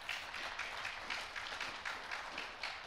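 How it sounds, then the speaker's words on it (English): Applause for a panel at a book launch event: a steady, moderately distant round of clapping from an audience, continuous throughout with a slightly pulsing texture. "I'd like to give them a round of applause."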